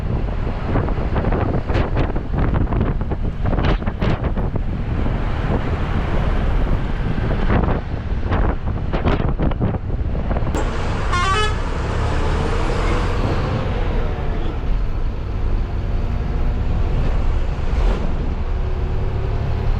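A city bus on the Vallalar Nagar to Periyapalayam route pulls into the Padiyanallur stop, its steady, loud engine and road rumble running throughout alongside passing traffic and wind buffeting, with a brief rising whine midway.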